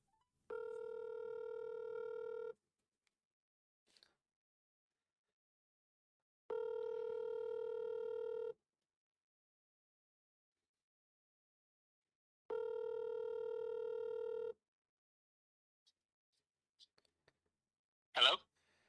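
A phone line rings out to call a podcast guest, three steady two-second ringback tones spaced about four seconds apart, then a few faint clicks and a brief rustle as the call connects.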